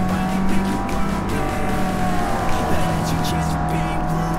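A Toyota AE86 race car in Forza Motorsport braking hard and dropping gears, its engine note stepping down through sustained tonal whine and rasp, loud and close, with faint tire noise and a voice talking over it at times.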